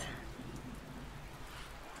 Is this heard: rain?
yes